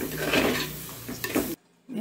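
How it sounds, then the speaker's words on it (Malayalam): Ground spice paste being stirred into a flaked dried-fish mixture in a pan, with close scraping and soft sizzling for about a second and a half before a short silence, no voices. "അതിലേക്ക് നമ്മൾ നേരത്തെ തയ്യാറാക്കി വെച്ചിരിക്കുന്ന അരപ്പ് ചേർത്ത് കൊടുക്കുക. ഇനി ഇത് നല്ലപോലെ മിക്സ് ചെയ്തെടുക്കണം."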